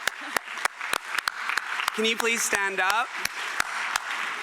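Scattered audience clapping at a health conference closing, with sharp isolated claps ringing out between stretches of a speaker's amplified voice.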